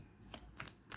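A deck of tarot cards is shuffled close up in a brief, soft burst of riffling flicks, three quick papery snaps over a low, quiet background.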